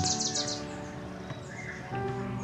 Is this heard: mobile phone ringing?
no